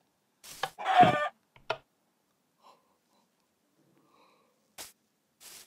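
Video game chickens cluck in short, separate bursts, one louder squawk near the start followed by fainter scattered clucks amid long silent gaps.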